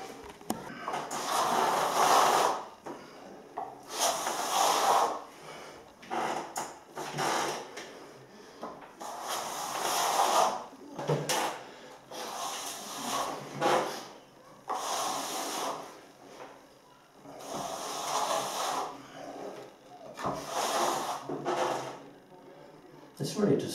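A trowel sweeps in repeated rhythmic strokes across a plastered ceiling, giving soft scraping hisses in regular bursts while the sponge-float skim coat goes on.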